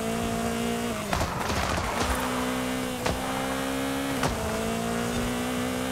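An Abarth 595 Esseesse hatchback in Forza Horizon 5 drives with a steady, loud engine drone that shifts pitch through gear changes, with brief bumps and jolts as the car crosses uneven ground.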